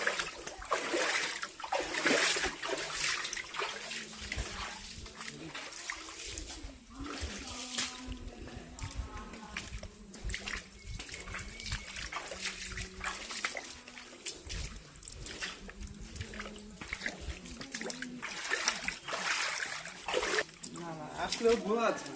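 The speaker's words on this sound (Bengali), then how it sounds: "এই পানিগুলো ওই যে ওখানে যাইতেছে।" A shallow stream trickles and flows steadily through Ali's Cave (Alir Guha) in Alikadam, Bandarban, a continuous watery wash running beneath people talking throughout.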